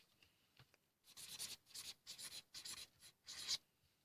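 Pen or pencil scratching across paper in handwriting, a series of short rubbing strokes with brief pauses between words, close and fairly quiet with no talking.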